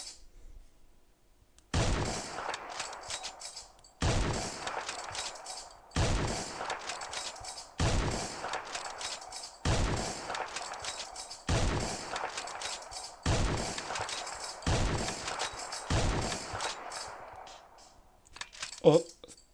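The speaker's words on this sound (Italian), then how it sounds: "Ora proveremo a fare una prova di fuoco." A British Lee-Enfield rifle is test-fired repeatedly: about nine loud, sharp gunshots in a steady rhythm roughly every two seconds, each with a short echoing tail.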